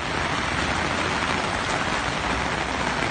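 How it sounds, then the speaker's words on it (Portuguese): Heavy rain pours over a city avenue in Sobral, Ceará, a dense, constant roaring wash of drops on surfaces, loud and close without letup, and no one speaks. "Chuva excepcional na tarde de hoje."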